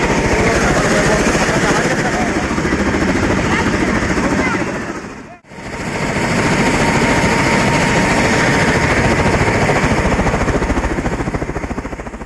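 A loud helicopter engine drones continuously with rotor chop, dipping briefly in the middle before returning to full strength.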